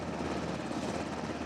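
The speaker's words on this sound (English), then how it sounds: "Coast Guard, helicopter" A Coast Guard helicopter flies nearby with a steady, loud rotor and engine roar that fills the whole stretch without break, no voices over it.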